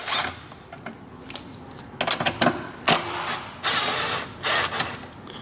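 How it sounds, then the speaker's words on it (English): A small 13mm impact wrench takes nuts off the power steering fan shield of a MINI Cooper, giving irregular short mechanical bursts and rattles at close range, with brief pauses between them. "So here he goes with the small 13mm impact wrench to take off the nuts."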